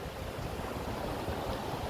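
Ocean waves break on the shore in a steady, soft surf wash, with faint low rumbling and some wind, and no voices heard.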